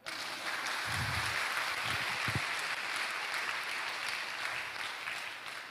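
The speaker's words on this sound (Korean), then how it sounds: "왜 박수 안 쳐요?" Sustained applause from a church audience at a Christian lecture, a broad even roar of many hands clapping continuously for several seconds, with a few low thumps near the start.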